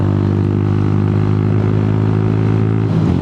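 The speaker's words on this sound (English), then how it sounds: "There's a modified exhaust. I'm not sure if you can hear it very well." A Honda Grom motorcycle with a modified exhaust runs steadily during a commute, its loud buzzing engine note close and constant with no talk over it.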